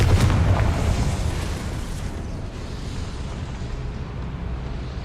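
A Confringo fire spell going off in Hogwarts Legacy, a loud rumbling blast that opens with a sharp burst, then rolls on as a sustained low roar and fades gradually over several seconds.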